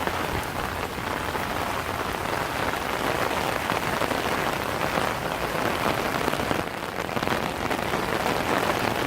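Steady rain falls on surfaces outdoors, an even, continuous wash of pattering drops at moderate volume with no voices over it.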